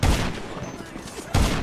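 Gunfire from a shooting video game, with two loud bursts of shots at the start and again near the end, separated by a quieter stretch of game ambience.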